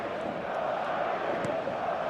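A steady roar from a stadium crowd in a football video game, filling the clip as a dense, constant murmur with no distinct chants or peaks.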